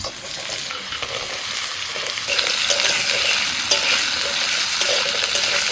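Potatoes frying in hot oil over a tempering of dry red chilli, bay leaf and five-spice, a steady sizzle that swells as they go in, with occasional stirring scrapes nearby.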